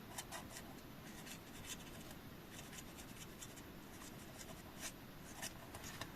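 Felt-tip marker writing on paper at a scrapbooking table, a soft continuous scratchy rubbing with short strokes and pauses, quiet and close with faint room noise.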